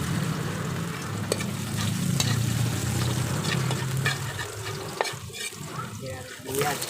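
Garlic sautés in a pan for tofu sauce, giving a continuous sizzle with scattered stirring clinks and scrapes at close range.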